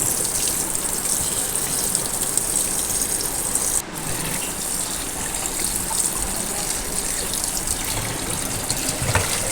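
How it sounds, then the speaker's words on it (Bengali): Running water gushes steadily while flour dough is washed under a tap, a constant loud splashing stream with no speech. "যতক্ষণ এইরকম জল বেরোবে ততক্ষণ পর্যন্ত আমি এই ময়দাটা ধুতে থাকবো"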